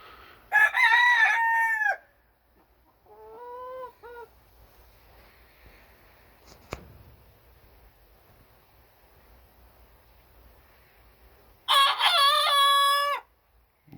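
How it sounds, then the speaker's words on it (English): A rooster crows twice, loud and close, with long drawn-out calls at the start and near the end, a shorter fowl call between them, and quiet gaps otherwise. "He looks like he's gonna crow."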